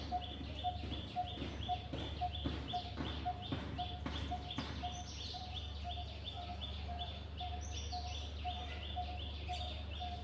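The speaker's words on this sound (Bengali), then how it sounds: "দেখো পাখি ডাকতেছে।" Birds call repeatedly outdoors beneath a tree, with a regular run of short, clear chirping notes over a steady low background hum.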